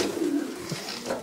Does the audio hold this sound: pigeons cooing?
yes